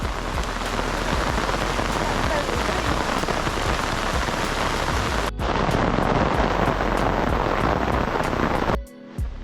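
Heavy rain pours steadily onto surfaces during a Kerala sunset, a dense, loud, continuous hiss with a brief break near the end and no talk.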